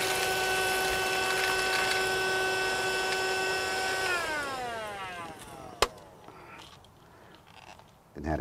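Cherylon handheld car vacuum cleaner running with its hose: a steady, high whining motor hum that winds down in pitch as it switches off, followed by a sharp click and quiet handling noises.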